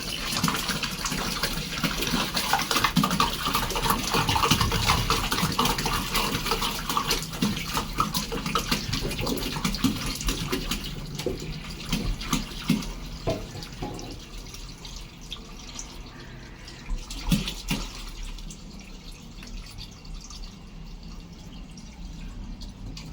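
Water gushes steadily from cans into the tank of a balcony hydroponic tower, three cans toward a 60-litre capacity; a continuous, close pouring rush that thins slightly near the end.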